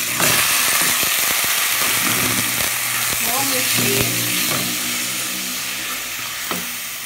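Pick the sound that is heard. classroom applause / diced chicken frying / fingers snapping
diced chicken frying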